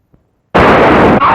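A single loud gunshot in a Hindi crime film scene bursts out abruptly after near silence, a sharp blast followed by a dense, sustained roar that cuts off at the end.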